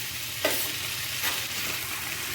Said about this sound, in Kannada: ಈ ಟೊಮೆಟೊನ ಈಗ ಸಾಫ್ಟ್ ಆಗುವ ತನಕ ಫ್ರೈ ಮಾಡ್ಕೊಳ್ಳೋಣ.